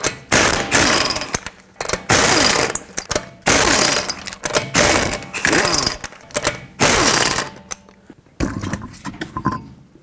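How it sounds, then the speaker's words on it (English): A power impact tool spinning off the five lug nuts on a 2011-2014 Hyundai Sonata with a 21mm socket, loud repeated whirring, rattling bursts of about a second each with short gaps, close up. "With a 21mm socket, remove all 5 of your lug nuts and then remove the wheel."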